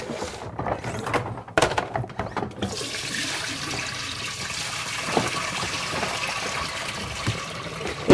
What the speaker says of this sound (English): So what I'm going to do is just pour it out now into the sink.